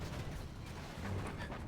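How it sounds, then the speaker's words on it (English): An explosion in the C&C strategy game burns Chinese soldiers, a dense rumbling boom of artillery-like blasts that holds steady and loud for under two seconds. "Poor soldiers going to get burnt by the explosion"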